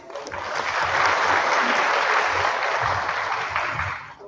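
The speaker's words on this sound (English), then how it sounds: "A round of applause for Jess." Sustained audience applause at a corporate product training session in Singapore, a dense wash of many hands clapping that swells quickly, holds steady and loud for several seconds, then tapers off.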